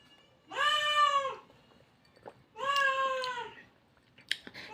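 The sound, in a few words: cat meowing loudly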